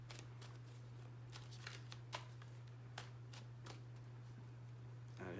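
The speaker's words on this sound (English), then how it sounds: "I'm going to shuffle first" A deck of tarot cards is shuffled by hand in a series of quick riffling bursts and soft slaps, close and fairly quiet over a steady low hum.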